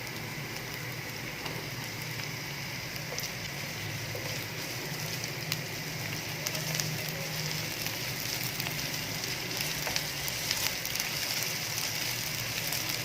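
Onion with ginger-garlic paste frying in a pan for mutton keema, a steady broadband sizzle with faint crackles running evenly throughout, close and unbroken, with no voices.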